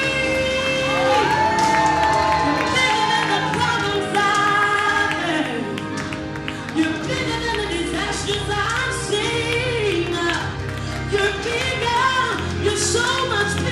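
A gospel concert crowd screams and cheers loudly and continuously over sustained music, with singing voices and a dense, roaring wash of sound throughout.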